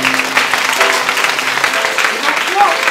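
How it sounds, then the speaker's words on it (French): A theatre audience applauds during a play, with a broad wash of clapping and a voice talking over it. "C'est bon, on applaudit."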